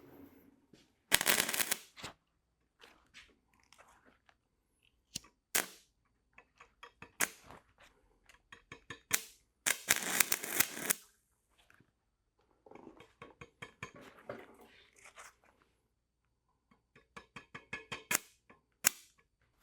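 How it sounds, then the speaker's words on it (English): Stick welding with a 7018 rod powered by car batteries, the arc sputtering and cracking in short irregular bursts with brief gaps where it dies out and restarts, fairly close, with no talk. "What's going on is it's burning up just like a normal 7018 does, but the second the arc goes out, you can't restart easily."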